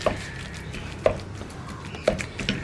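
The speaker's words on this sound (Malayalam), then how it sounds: "കപ്പയുടെ കഷ്ണങ്ങൾ ഇടയ്ക്ക് കടിക്കാൻ കിട്ടുന്ന രീതിയിൽ ഒന്ന് ഉടച്ചെടുക്കുക." Cooked tapioca being mashed in a clay pot for kappa puzhukku, giving four soft, evenly spaced thuds and squishes about a second apart, close and moderately quiet, with no talking.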